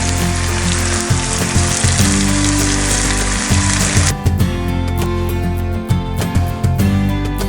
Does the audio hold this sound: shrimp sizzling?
yes